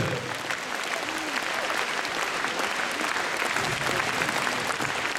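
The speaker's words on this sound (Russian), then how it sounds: "Аплодисменты, аплодисменты." Dense audience applause after a song at a concert, a continuous wash of many hands clapping at a steady, even level for the whole stretch.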